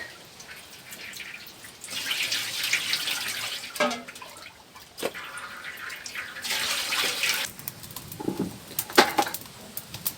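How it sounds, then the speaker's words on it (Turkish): Grape must, left to settle overnight for village-made grape molasses, is strained into a pot, a steady splashing pour rising and easing in waves with a few clinks of utensils. "Şimdi tekrar süzüyoruz ocağa."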